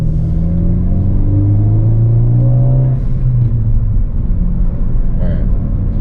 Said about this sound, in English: this first one, I am going to do a third gear open throttle